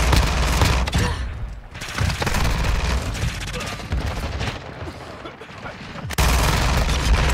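Rapid SMG fire from the FTAC Siege in Modern Warfare 2 comes in dense, loud bursts across most of the stretch, with a brief lull near the end before the shooting resumes at full volume.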